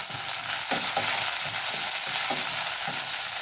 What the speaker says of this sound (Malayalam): പിന്നെ ഞാനിതിലേക്ക് 2 തണ്ട് കറിവേപ്പില ഇട്ട് കൊടുക്കണം.